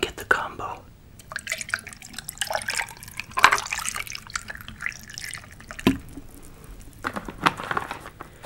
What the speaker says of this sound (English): Let me pour some drink here.